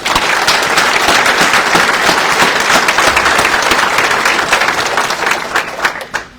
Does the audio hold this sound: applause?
yes